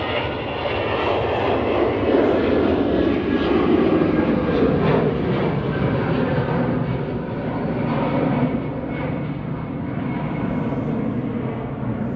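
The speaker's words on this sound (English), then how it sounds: "EasyJet to Belfast there, flight 2713, A320-200 GEZTN." An EasyJet Airbus A320-200 jet roars steadily at Manchester Airport, a loud, sustained engine rumble and whine holding for the full twelve seconds without a break.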